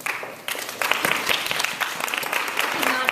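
Audience applause at the PGCPS/TFA Innovation Challenge 2011 evening event, clapping starting abruptly and swelling into a steady, fairly loud roomful of hands, with faint voices underneath.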